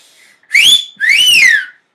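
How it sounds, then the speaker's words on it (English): Someone gives a two-finger wolf whistle, close and loud: a short rising note, a brief pause, then a longer note that rises and falls. "but you let out a whistle that sounds like this."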